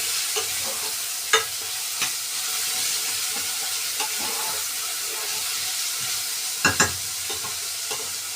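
Onion frying in a pan with a constant bright sizzle, broken by occasional stirring clicks and scrapes from a utensil, no voices heard.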